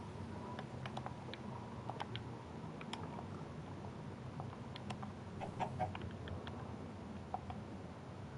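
Faint, sparse clucks from a chicken in the video game Minecraft, short soft calls scattered over a quiet background with no talking.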